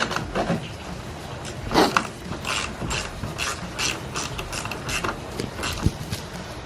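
A hand ratchet tightens the nuts on a Terminator Cobra mirror, giving repeated close, crisp clicking bursts with short pauses between strokes and no talk.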